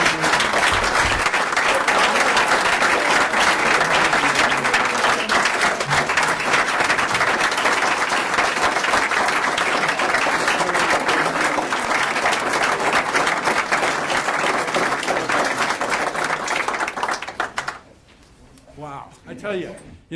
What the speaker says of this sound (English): that's worthy of another round of applause.